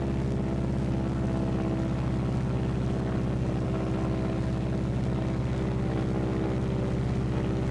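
A Martin B-26 Marauder's propeller engine drones steadily and loud as the power on the operating engine is pulled back, a dense continuous roar with no talking.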